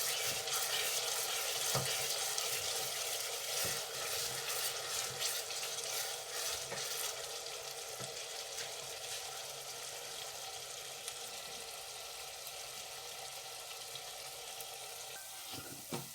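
Ground onion and ginger paste fries in a pan for an aloo anda curry, a steady close sizzle with scraping stir strokes repeating throughout, no voices.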